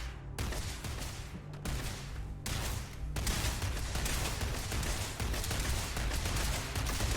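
Rapid gunfire at a Starfield firing range, a few distinct bursts with short gaps at first, then a sustained, dense volley of shots, moderately distant and steady.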